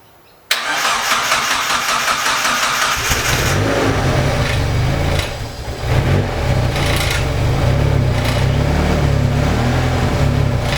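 A forged Mazda BP turbo engine fires on its first start, catching abruptly and settling into a loud, steady, close running drone that shifts briefly midway before continuing.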